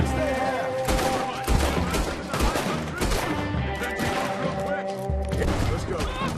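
Gunfire in Red Dead Redemption 2, a loud, dense fusillade of overlapping shots and cracks that runs throughout, with voices talking underneath.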